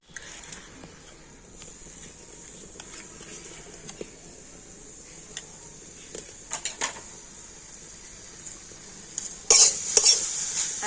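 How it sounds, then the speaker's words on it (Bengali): Grated coconut and sugarcane jaggery are stirred in a wok, producing soft scraping and faint sizzling with scattered spatula taps, and a louder burst of stirring near the end; no voices. "এই নারকেলটা এখন আমি কড়াতে দিয়ে দিচ্ছি আর দিয়ে দেবো আখের গুড়"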